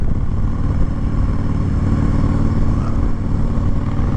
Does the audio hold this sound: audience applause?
no